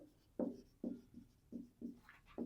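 Pen strokes on paper during a math lesson, appearing as a series of six short scratchy bursts spaced unevenly, moderately close and fairly quiet with no talking.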